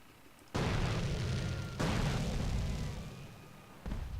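Explosion in the video game GTA San Andreas: a sudden loud blast, a second boom moments later as the roar decays, and a third sharp burst near the end.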